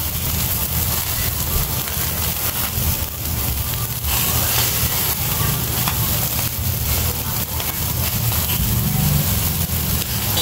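Chicken inasal cooking in a pan: a loud, dense, steady sizzle and crackle of frying fills the whole stretch without pause, close up and alone.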